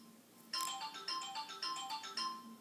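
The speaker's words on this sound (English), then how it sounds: "Sorry for the phone." Phone ringtone sounding indoors in repeated electronic bursts of bright tones, starting about half a second in and pulsing steadily to the end, alone and fairly close.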